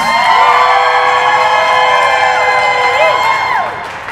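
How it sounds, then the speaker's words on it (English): An improv theater audience cheers, whoops and shrieks loudly for performers coming to the stage, a sustained crowd roar that fades near the end. "Cheer for them!"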